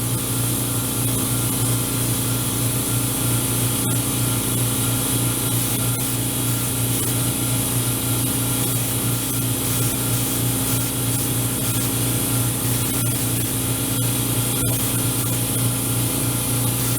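An airbrush sprays paint onto an HO scale model caboose with a continuous, steady hiss of air that runs unbroken throughout, close and even, with faint small clicks and no speech.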